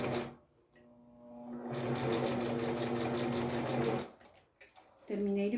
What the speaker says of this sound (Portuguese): Vou passar a costura onde eu tinha feito a marca, aquela dobra, vinco.